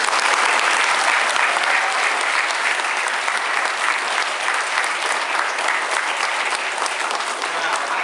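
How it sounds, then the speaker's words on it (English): Audience applause in a school hall after a poet's talk, a dense, loud, sustained wash of many hands clapping that continues evenly from start to finish. "I want to give a round of applause again"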